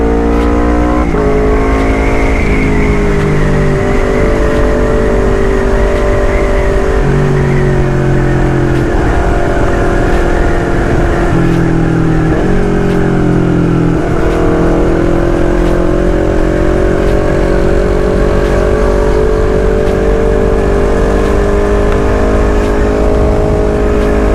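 A 250cc motorcycle engine revs continuously while riding, its loud buzzing drone rising and falling in pitch through gear changes, with steady wind and road rush underneath and no talking.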